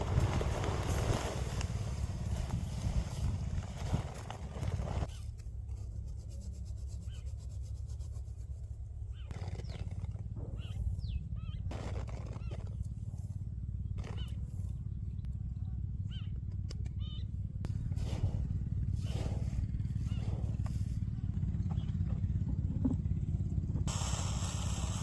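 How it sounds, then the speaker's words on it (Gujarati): A tractor engine runs on a farm during fertilizer spreading, a continuous low rumbling drone heard fairly close for the whole stretch, with a few scattered knocks and clatters over it and no one speaking. "બાકી નીરવને હાકે છે ટ્રેક્ટર."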